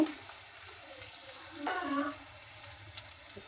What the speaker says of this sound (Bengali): পেঁয়াজটা একটু নুন দিয়ে ভাজা ভাজা করব